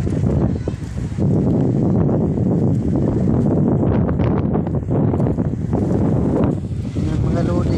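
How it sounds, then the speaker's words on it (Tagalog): Strong wind roars steadily against the microphone after a typhoon flooded farmland, a loud, constant rumbling buffet with gusts throughout and a voice faintly underneath. "kalakas pa ng hangin"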